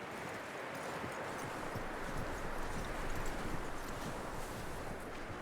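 Horse hooves clip-clop at a walk in the Red Dead Redemption 2 video game, a faint, steady patter of soft beats under a constant low outdoor wash.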